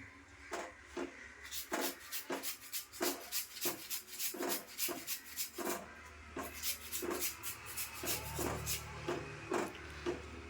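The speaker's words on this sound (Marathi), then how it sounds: "हे असं मी किसून घेते बारीक" Raw potatoes being grated finely on a hand grater, a quick series of rhythmic rasping strokes, close and fairly loud, repeating about twice per second without talk.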